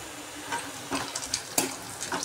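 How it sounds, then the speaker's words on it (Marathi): Fried vadas dropped into a pan of fried onions, a close sizzle with a few quick scrapes and soft clatters from the spatula. "आता आपण त्याच्यामध्ये हे भाजलेले वडे टाकू."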